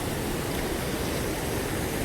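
Water from a village lake pours over its embankment after heavy rain, a steady, dense rushing roar that fills the whole stretch without letting up.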